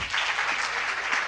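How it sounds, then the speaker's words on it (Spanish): An audience at a health and science event applauds, a dense, steady wash of many hands clapping at moderate volume, with no voices rising above it. "quiero pedir un fuerte aplauso para toda esta gente hermosa que está organizando este evento"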